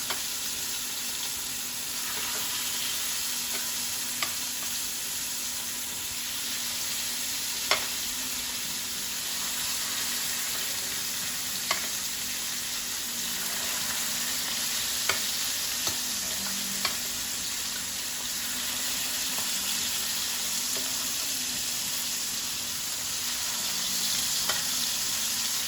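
Lamb chops sizzle in a large 15-inch skillet, a steady crackling fry that runs throughout with a few sharp pops and light scraping, fairly close and with no voices.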